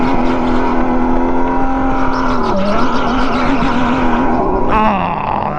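Race car engine from the kart racing video game Supercharged Karting on the Twist Track, a loud steady high-pitched whine held near, dipping briefly as it shifts pitch twice, with no talk over it.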